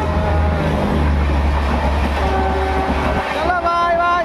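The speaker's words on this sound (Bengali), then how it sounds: "ওই দেখো ট্রেন আসছে" A Bangladeshi train comes closer with a steady heavy rumble of wheels and carriages that fills the scene, while people talk nearby and a high tonal sweep rises near the end.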